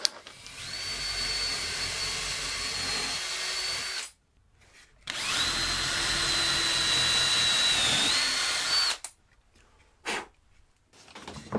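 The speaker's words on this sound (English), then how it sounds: "grab a little pilot drill with a countersinking bit and drill a hole at either end of these" Two long bursts of a close, whining power drill with a countersinking bit boring holes, separated by brief pauses, then a short final burst.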